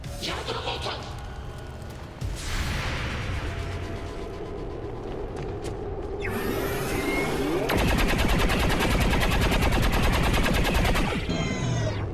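Gunfire in the XCOM 2 video game erupts in sustained rapid bursts, loud and continuous like automatic weapons, swelling into a dense crackling barrage in the second half.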